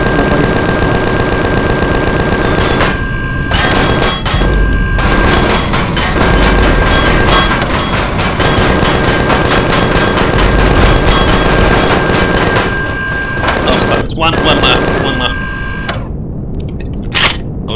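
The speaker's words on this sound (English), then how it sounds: "I was shot by a Zirax minigun base attack" Sustained rapid minigun fire from a Zirax alien base in the sci-fi survival game Empyrion Galactic Survival, loud and continuous bursts with mechanical whirring and short gaps, dense and close throughout.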